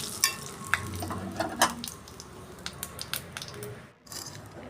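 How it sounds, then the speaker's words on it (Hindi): Hot ghee sizzles and crackles steadily as fenugreek seeds, cumin seeds, dried red chillies and asafoetida hit it for tempering kadhi, with sharp pops and a brief stir, then a short quiet gap before the sizzling resumes. "कड़ी में हम तड़का लगा देंगे।"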